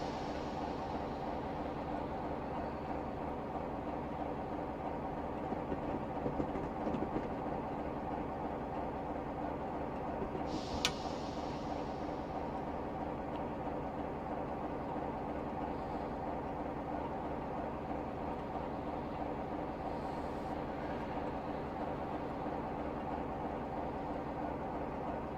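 A Class 45 diesel locomotive in Train Simulator Classic, with Brush traction and slowing on the Leicester to Nottingham line, gives a steady low engine drone and rolling rail rumble throughout, with a brief faint hiss partway through and no talk.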